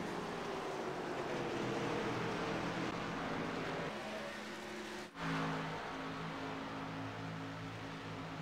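Race car engines in the iRacing sim at ISM Raceway during a Grand National Series event drone steadily with sustained pitch bands, a dense continuous roar that briefly dips before resuming.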